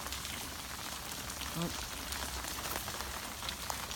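Steady rain falls on a surface outdoors while a Great Dane swims, a broadband patter running evenly throughout with a brief spoken exclamation partway through.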